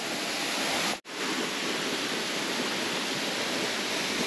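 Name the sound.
Velo de Novia waterfall in Temalac, Guerrero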